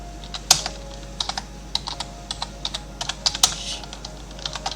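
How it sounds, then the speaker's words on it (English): Rapid, uneven clicks of a PC computer keyboard as someone types alone at close range, with a steady low hum from the machine beneath the keystrokes. "Let me just quickly finish typing."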